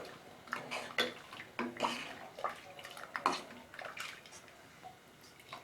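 Coconut milk poured from a tumbler into a village-style mutton curry, with liquid splashing and trickling and light metal clinks from the pot, all at moderate volume.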